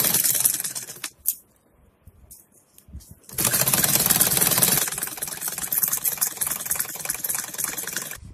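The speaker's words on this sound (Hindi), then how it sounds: "मैं इनको एक साथ ही सिल रही हूँ।" A sewing machine stitches fabric frills onto a dress in bursts, a fast whirring rattle that runs briefly, pauses with near silence, then resumes in a longer steady run, close by.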